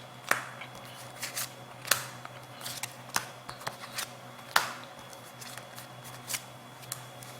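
Tarot cards are handled and drawn up close, giving soft papery rustles and sharp snapping flicks at irregular intervals over a faint steady hum.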